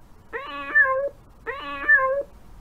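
A VTech Little Smart Letter toy laptop plays a recorded cat meow twice in succession, two clear electronic-sounding meows with a short pause between them, with no talking.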